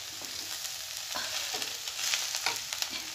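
Spinach with red chilli pieces being stirred and fried in a pan over a medium flame: a steady close sizzle broken by repeated scraping stirs.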